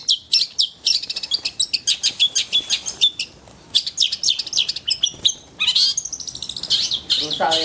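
A long-tailed shrike sings in rapid, rolling bursts of sharp high chirps and trills, loud and close, with a few faint voices in the background.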